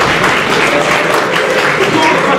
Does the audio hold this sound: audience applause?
yes